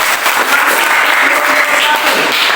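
Classroom applause for a student group after its mathematics presentation during a teacher training session, a steady dense clapping of many hands filling the whole stretch without a break.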